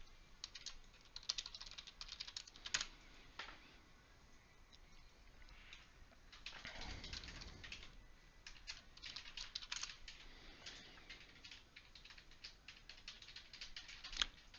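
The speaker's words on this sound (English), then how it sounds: "I'm going to be mischievous and type in a question rather than click an option he's given." Fingers type a question on a computer keyboard in a faint, steady run of rapid clicking keystrokes, with short pauses and occasional louder key taps, heard alone.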